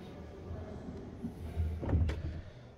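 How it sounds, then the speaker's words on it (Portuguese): Rear door of a Volkswagen ID. Buzz electric van shutting, a soft, damped close near the end that rises into a brief thud over low interior hum, heard up close with no talking. "tá fechando a porta"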